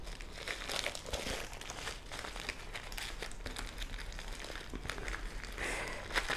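A plastic bag being opened and crinkled while unboxing a diamond painting kit, continuous close, soft rustling and crackling throughout with no talk.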